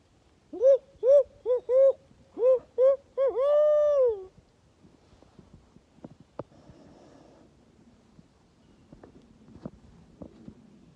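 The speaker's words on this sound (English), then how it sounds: "We hear an owl. And we're hearing the owls." A series of deep hoots, about seven in a quick rhythmic run ending in a longer drawn call, followed by quiet night ambience and faint rustles.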